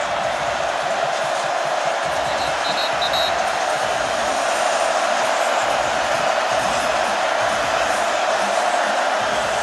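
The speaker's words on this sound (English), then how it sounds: "And a big crowd trying to distract him." A big stadium crowd roars steadily at a college football game, Notre Dame against Virginia Tech, trying to distract the kicker before a 48-yard field goal try; a dense, continuous wash of cheering and noise with no clear breaks.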